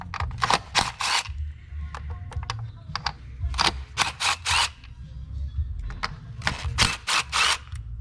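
A 10 mm ratcheting socket wrench works screws loose on a 2019 Hyundai Santa Fe during a spark plug job, with bursts of rapid ratchet clicking separated by short pauses, close and fairly quiet.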